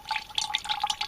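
Water trickling from a travel water tap, with quick irregular drips and splashes, close and fairly quiet, with no voices.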